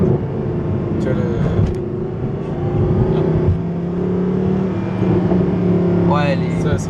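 A Mercedes-Benz SLS AMG engine drones loudly from inside the cabin on a downshift, with the rev swelling and a few crackles near the end under talk from the occupants.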